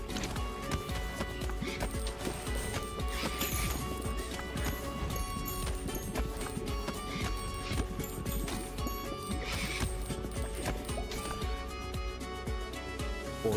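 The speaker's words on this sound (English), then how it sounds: "Horse." Horse hoofbeats clip-clopping with a whinny in a video game, set against continuous tonal game music and effects at moderate level.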